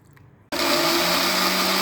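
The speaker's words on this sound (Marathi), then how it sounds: "आता हे सगळं मिक्सरवर अगदी बारीक वाटून घ्यायचं आहे आपल्याला" After a brief quiet moment, a mixer grinder suddenly switches on and whirs loudly and steadily, blending green chutney with a little water without pause until the end.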